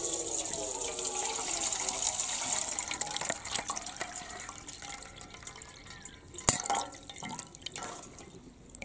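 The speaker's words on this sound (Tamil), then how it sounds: "தண்ணி ஊற்றி நல்லா அலசியாச்சு இப்போ வந்து இந்த வடிகட்டியால் நல்லா வடிகட்டிக்கலாம்" Water drains from soaked grains through a kitchen strainer, trickling and dripping steadily with splashy bursts and one sharp clatter near the end.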